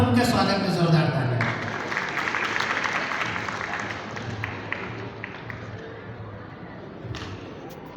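A crowd claps in a dense, steady wash that gradually thins out, with a voice speaking over part of it.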